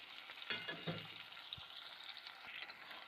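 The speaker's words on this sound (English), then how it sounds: "And we have to fry." Red chili fries in oil for noodles, giving a soft continuous sizzle with a few brief scrapes and taps early on, faint and with no one speaking.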